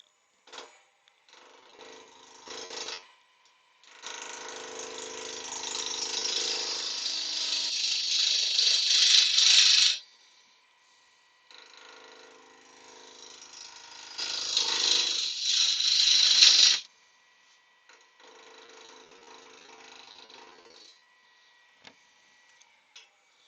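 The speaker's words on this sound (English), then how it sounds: "I'll get the bowl gouge here and see if I can get this down a wee bit more" A bowl gouge cutting a piece of yew wood on a lathe, making two long rasping passes that swell in loudness, with shorter, quieter scraping bursts between them, and no talk.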